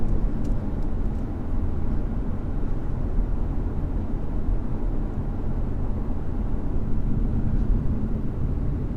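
A 2019 Audi A5 40TDI quattro diesel driven hard through corners, with a steady loud drone of engine and road noise heard from inside the car throughout and no clear changes in pitch.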